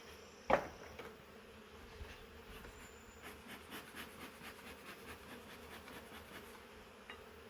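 A swarm of honey bees hums in a trap box, a faint, steady buzzing drone that holds throughout after a single sharp knock near the start.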